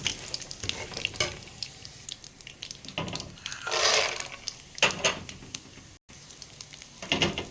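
Mustard seeds splutter in hot oil, making a dense crackling hiss with bursts of sharper popping that rise and fall before a brief dropout.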